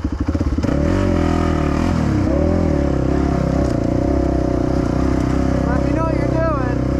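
A sport quad ATV on a trail ride, its fast first gear driving a loud, steady engine drone that rises and dips with throttle changes, close and continuous throughout.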